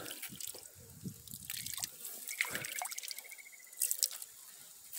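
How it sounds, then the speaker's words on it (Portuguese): Small rural stream running fast beside a fence-building site, with close trickling and dripping water and scattered brief splashes, no talking. "Olha que força a água tá correndo."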